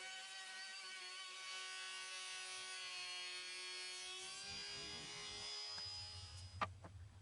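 A router rounds over the top edge of a solid maple king-size bed rail. It gives a quiet, steady high whine with faint cutting rasp, and a couple of small knocks come at the end.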